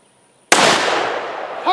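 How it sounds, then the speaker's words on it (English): A single loud .44 gunshot fired into a melted HDPE board bursts sharply after a moment of silence, its blast decaying over about a second, followed by a brief exclamation. "We're going to shoot the board first."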